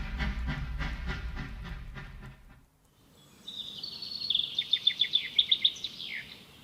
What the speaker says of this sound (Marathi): रुळांवरून धडधडत जाणारी गाडी आणि तिच्या इंजिनाच्या शिट्टीचा आवाज